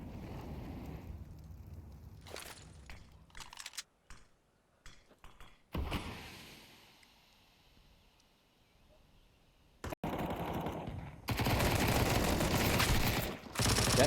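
Bursts of MP9 submachine gun fire in a Counter-Strike esports match, rapid stuttering volleys and scattered single shots with quieter gaps in between, ending in a long sustained dense burst.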